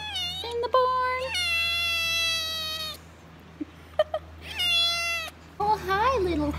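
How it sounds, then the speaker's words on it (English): A kitten in a barn gives several high, drawn-out meows, close and clear, in separate calls with short gaps, while a person talks nearby. "I love when I find little kittens in the barn."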